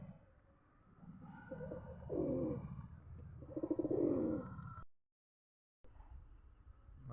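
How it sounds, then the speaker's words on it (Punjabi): Pigeons cooing in a flock of some fifteen to twenty birds kept outdoors in the rain, a steady run of soft, close, repeated coos and low calls, broken by a brief gap of silence. "ਜਿੰਨੇ ਕਬੂਤਰ ਆਪਣੇ ਉਹ ਸਾਰੇ ਉੱਡਣ ਵਾਲੇ ਹੀ ਨੇ"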